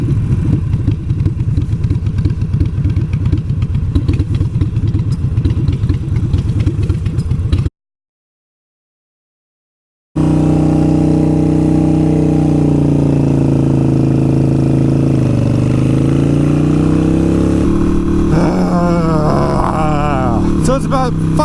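A Harley-Davidson Sportster 883 Iron motorcycle engine runs loud and close, with a steady rumbling idle, a brief cut to silence, then the engine resumes and revs with shifting pitch.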